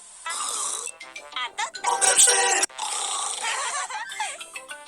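A voice imitates a warthog, an African pig, grunting and snorting loudly and close up in rough, rasping bursts, with a few spoken words mixed in.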